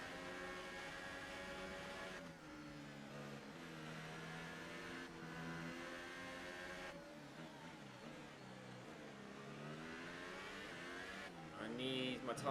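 Formula 1 race cars in the video game F1 2018, a steady high-pitched engine whine with rising and falling gear shifts, loud and continuous, revving harder near the end.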